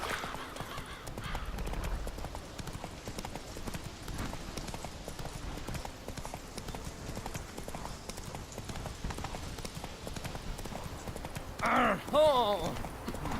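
Roach the horse gallops in The Witcher 3, hooves pounding in a rapid, steady rhythm for a long stretch, with a voice exclaiming briefly near the end.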